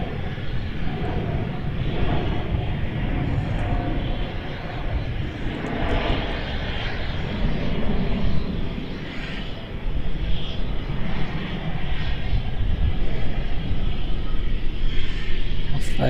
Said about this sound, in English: Qantas Dreamliner off to LA